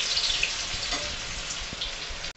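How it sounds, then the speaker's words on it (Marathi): Colocasia leaf rolls (aluvadi) frying in hot oil give a steady, close hiss and crackle of sizzling that runs unbroken and evenly loud, with no voices. "इथे तुम्ही पाहू शकता तेलामध्ये अळूवडी सोडली आहे"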